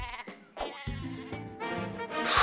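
The sheep weapon in the video game Worms Revolution bleats loudly in several wavering cries, ending in a bright burst of noise.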